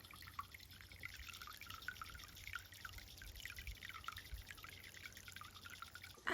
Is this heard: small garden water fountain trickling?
yes